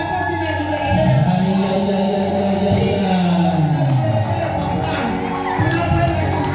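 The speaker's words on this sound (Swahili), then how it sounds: "Simama pale ulipo, piga makofi na vigelegele." A church congregation clapping and ululating to welcome someone, a loud dense crowd sound with a voice rising and falling over it throughout.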